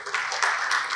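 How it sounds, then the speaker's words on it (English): Brief burst of audience clapping at an agricultural conference opening session, a dense patter of many hands that stays steady for about a second. "Let's have a round of applause."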